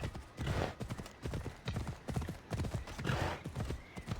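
Horse hooves galloping in Assassin's Creed Odyssey on PS4, a steady, loud clip-clop rhythm running the whole time with a brief snort or whinny mixed in.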